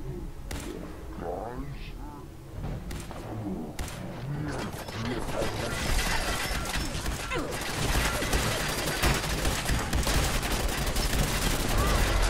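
Rapid bursts of gunfire from Fallout 4, loud and dense with machine-gun-like volleys and a roaring creature sound, building up after some early talk and continuing steadily to the end.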